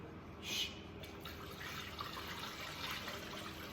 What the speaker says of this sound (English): let's fill this thing with coolant